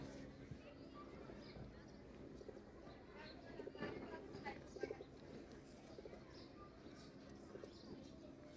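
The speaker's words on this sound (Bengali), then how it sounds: "বড় সাইজের কবুতর এটা" A large pigeon coos softly on a rooftop among other pigeons, with faint, low repeated coos under quiet talking in the background.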